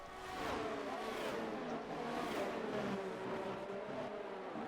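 A Formula 1 car in a racing video game passes another on a straight, its high-pitched engine whine holding loud and steady, blended with other car engines and background game audio.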